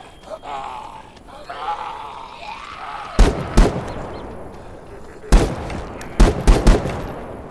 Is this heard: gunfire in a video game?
yes